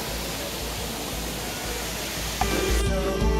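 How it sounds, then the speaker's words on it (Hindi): A stream of water flows near Nindri Khola below the South Annapurna range. It rushes close and steady as a broadband hiss, with a brief knock near the end. "पानीको धारा"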